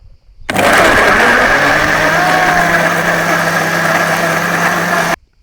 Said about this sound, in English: These machines are amazing to do this kind of pasta recipes because it allows the blending